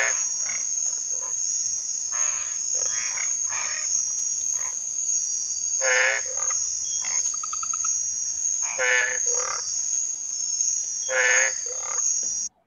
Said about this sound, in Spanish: En el fondo suena a otras ranas, pero la que suena así ¡mah! Es esta.